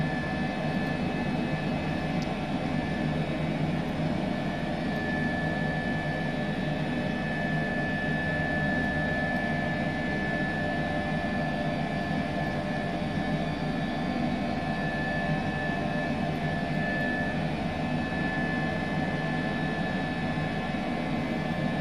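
Airbus H135 helicopter in Microsoft Flight Simulator over Melbourne, a steady, loud, continuous turbine whine and rotor drone that holds unchanged throughout, with a faint high tone running through it and no talk.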